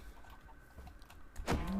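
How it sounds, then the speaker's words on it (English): Minecraft chicken clucking in the game, a single short burst near the end of a quiet stretch, fairly close and clear over faint background noise. "I would murder the chickens"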